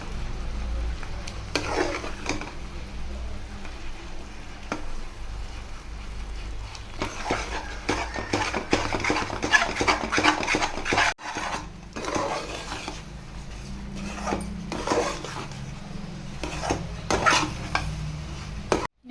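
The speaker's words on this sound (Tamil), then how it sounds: "இப்போ நல்லா அப்படியே அல்வா மாதிரி நல்லா அப்படி கிண்டி எடுத்துக்கிறோம்" Black urad dal kali is stirred in a pan until thick like halwa: a steady, close scraping of spoon against pan with soft sizzling and occasional metallic knocks, continuing without talk.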